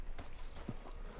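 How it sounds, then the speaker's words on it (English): Horse hooves walking in the Red Dead Redemption 2 video game, with a few soft, distant clip-clop steps over a steady background hum. "Marston, you're gonna tether him up to Javier's horse"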